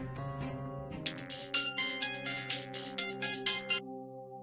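A mobile phone rings with an incoming call, playing a melodic ringtone that repeats in short bright pulses, moderately loud and alone, before cutting off to a quiet hum.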